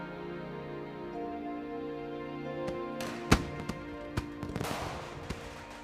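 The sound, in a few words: firecrackers being set off for Chinese New Year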